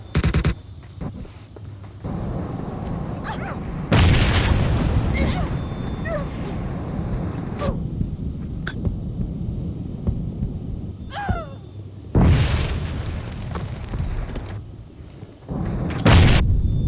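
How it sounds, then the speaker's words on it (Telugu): Gunfire and explosions from a PUBG Mobile gun-game match, with loud broadband blasts around 4, 12 and 16 seconds and scattered shots and game effects between them. "బుల్లెట్లు ఎంతసేపు కొడతారు బ్రో"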